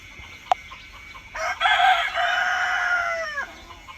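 Desi Sonali chickens on a farm, with a single sharp click before a rooster lets out one loud, close crow lasting a couple of seconds, with clucking fowl around it.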